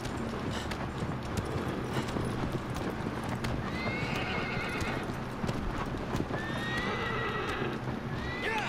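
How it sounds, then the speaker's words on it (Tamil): A horse gallops in the Shadow of the Colossus Remastered game on PS4, with rapid steady hoofbeats throughout and a couple of whinnies, loud and close. "மண்ணெல்லாம் ஜம்ப் பண்ணுது குதிரை."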